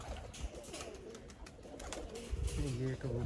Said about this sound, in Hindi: ये देखें ये कबूतर है जी।